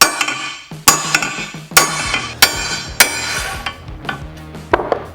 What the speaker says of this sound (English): We can still move things around by tapping it with a hammer